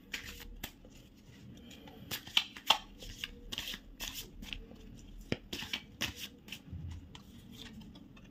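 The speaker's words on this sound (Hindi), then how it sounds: "तो चलिए अब आपके लिए गाइडेंस कार्ड निकाल लेते हैं।" Tarot guidance cards are shuffled and drawn by hand, giving a steady run of papery riffles and sharp card snaps close up, several distinct flicks standing out, with no talking.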